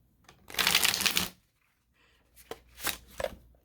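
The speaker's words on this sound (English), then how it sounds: "I swear to God it does riffle shuffle" A riffle shuffle of tarot cards: a dense papery flutter lasting under a second, then a pause and a few shorter, softer riffling bursts.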